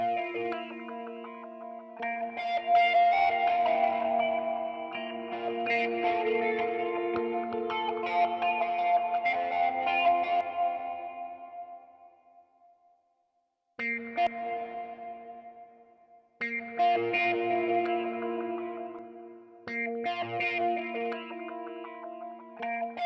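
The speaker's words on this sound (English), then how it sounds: "this is the most beautiful long carrying reverb" Softly picked guitar notes ring out drenched in long, lush large-church reverb, with the tails hanging and fading; playing stops briefly, then resumes.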